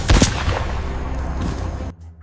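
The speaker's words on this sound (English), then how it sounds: "The sound of gunfire echoes." Gunfire echoes across the arid islands of eastern Indonesia during a ranger encounter with a Komodo dragon, a loud sharp crack at the start followed by a long reverberating rumble that cuts off abruptly near the end.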